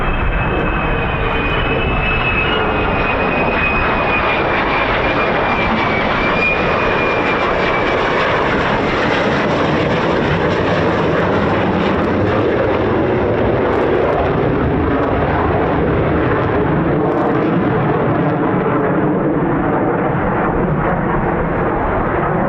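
F-15 or F-35 fighter jet roaring loudly and continuously as it lands and holds its nose high for aerodynamic braking at an air force base, the engine noise steady and close with no talk over it.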